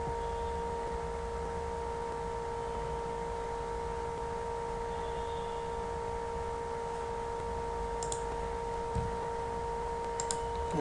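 A computer mouse clicks a few times, with single sharp, faint clicks near the end over a steady electrical hum.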